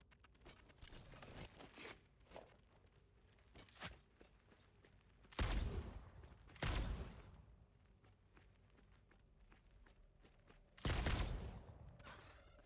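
Homing ammo fires in the Satisfactory factory game: three loud, distinct shots spaced several seconds apart, separated by quieter clicks, footsteps and small mechanical noises.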